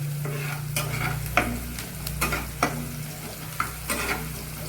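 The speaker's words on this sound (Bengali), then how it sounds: "যতক্ষণ না গোল্ডেন ফ্রাই হচ্ছে ততক্ষণ নাড়িয়েই যাবে।" Noodles for chow mein are stir-fried until golden, a steady close sizzle broken by repeated sharp scraping stirs of a spatula in the pan, with no voices.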